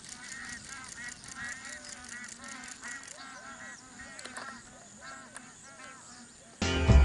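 Bar-headed geese honk at the Kabini reservoir backwaters, a steady overlapping chorus of nasal honks from a flock at moderate distance, ending in a sudden loud low rumble.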